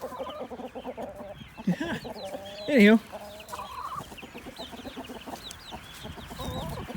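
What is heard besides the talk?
chickens and rooster clucking in coop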